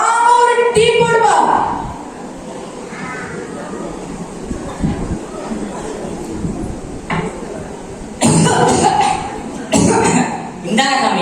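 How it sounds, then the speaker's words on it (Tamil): A cough rings out at a tea stall in a Tamil stage drama, set among loud people talking with bursts of harsh throat sounds near the start and end. "என்ன தம்பி இருமுற?"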